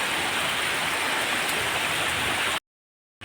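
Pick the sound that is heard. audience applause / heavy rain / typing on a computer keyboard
heavy rain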